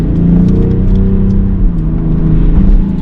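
BMW X6 M50d SUV in sport mode, its engine droning steadily and loudly with a deep, even rumble as it drives and corners, with no speech over it.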